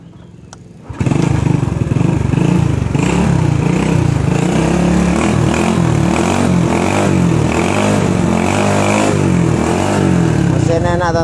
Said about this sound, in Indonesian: Mesin enak teman-teman, ngeleper ya.